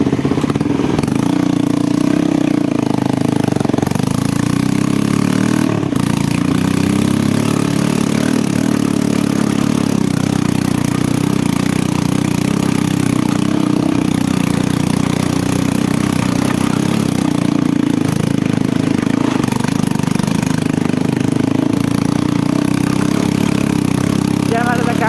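A motorcycle engine running steadily through a ride on a hilly road, a constant loud mid-pitched drone with wind noise, while people talk over it.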